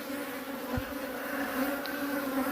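Honeybees buzz in a hive that holds the queen bee, a steady, close droning hum that carries on unbroken throughout.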